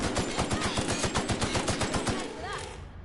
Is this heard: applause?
no